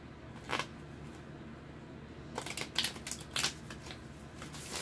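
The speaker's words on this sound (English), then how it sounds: "One more shuffle." Close crisp riffling of a tarot card shuffle: a brief flick, a pause, then a burst of several quick papery snaps.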